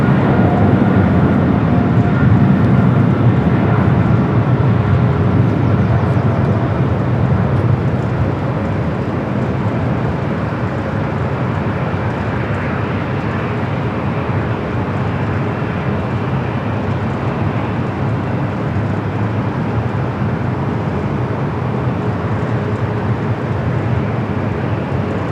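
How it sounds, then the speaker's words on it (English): A Boeing 777 freighter jet rolls for takeoff on runway 25 left at LAX, a steady, loud, broad engine roar that holds for the whole stretch without talk. "we got a 777 freighter rolling down at 25 left on the Southern"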